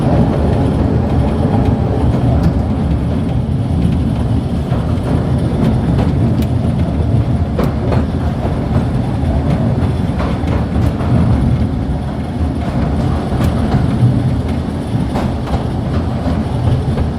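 The Mail Rail underground train runs steadily along its track, a continuous close rumble with rhythmic clickety-clack of the wheels and occasional squeaks, carrying on without pause.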